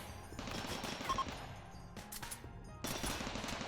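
Rapid bursts of gunfire in a RimWorld battle with a World War mod, a dense, continuous volley with brief gaps, steady and loud throughout, with no talking.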